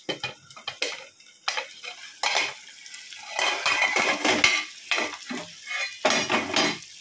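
Koi fish simmers on low gas in a covered pan as the lid is lifted off, bringing clinks and scrapes of metal cookware over a soft, bubbling sizzle, with no one talking.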